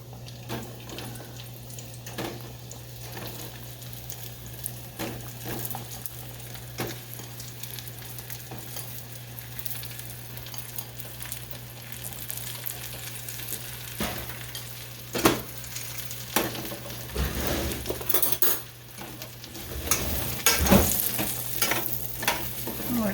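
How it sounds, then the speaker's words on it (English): Sliced mushrooms frying in melted butter in a pan, a steady soft sizzle with stirring and scraping clatter throughout, a low constant hum beneath and a few louder utensil knocks and splashes near the end. "here's my mushrooms. And I'm going to put them right here in this butter that already melted."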